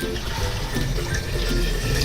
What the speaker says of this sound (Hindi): अब हम यखनी के लिए नया पानी शामिल करते हैं।